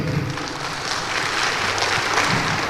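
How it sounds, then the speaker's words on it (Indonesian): Audience applause at a Ramadan religious lecture, a steady wash of clapping from many hands that fills the whole moment without talk over it. "Kita berikan aplaus."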